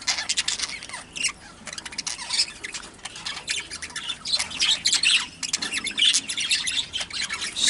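Birds in a breeding shed squawk and chirp almost continuously, loud and close, with scratchy calls overlapping and no voices.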